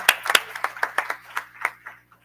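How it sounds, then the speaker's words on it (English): A small group at a university board of supervisors meeting claps for someone, a dozen or so distinct, close claps in a brief uneven run that thins out and stops. "give Pat McGee a round of applause"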